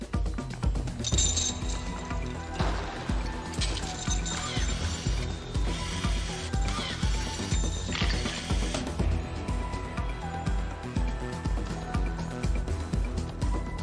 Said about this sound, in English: The box is then sealed tight with screws and chains.